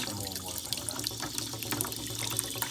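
Water runs steadily from a water heater's drain while its anode rod is being replaced, a continuous close gushing with no talk over it.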